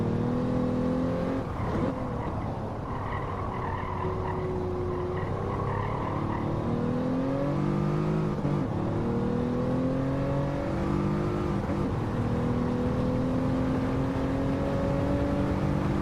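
A Hyundai Genesis 3.8 engine in Gran Turismo 7 revs steadily up and down through gear changes, loud and close, with a shift into third on worn-feeling tires during a lap. No talking.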